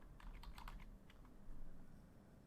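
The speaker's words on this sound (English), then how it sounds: "As I begin typing" Quick keystrokes clatter on a computer keyboard as someone types an institution name into a web form, a faint, close burst of irregular taps over a low hum, with no voices.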